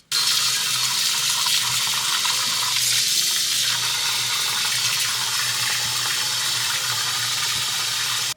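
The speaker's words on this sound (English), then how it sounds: "you're gonna throw hot water in there and add Dawn detergent" Hot water runs from a tap into a kitchen sink being filled to wash crystal with dish detergent: a steady, loud, hissing gush that continues unbroken throughout.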